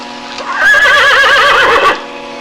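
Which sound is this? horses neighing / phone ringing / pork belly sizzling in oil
horses neighing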